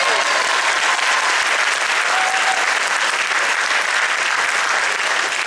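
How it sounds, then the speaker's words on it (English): Dense, sustained audience applause fills the hall after an orchestra's opening piece at a school fundraising concert, steady and loud throughout with no break. "A round of applause."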